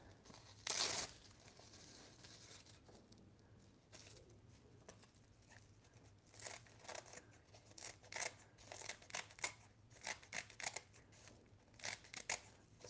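Scissors snip through a folded sheet of dried nori seaweed, making quick repeated crisp cuts with crinkly rustles close up. The snips come in rapid bursts after an earlier louder crinkle.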